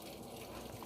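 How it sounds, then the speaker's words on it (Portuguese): A Panasonic 14kg washing machine sprays a steady jet of water during a dark-clothes wash, a continuous gushing rush that fills the whole moment without pause. "De novo, jogando aquele jato de água."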